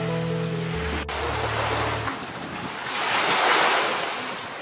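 Sea waves wash in at a beach resort, a broad steady surf roar with wind buffeting the microphone, swelling toward the end, while a brief low tone sounds near the start.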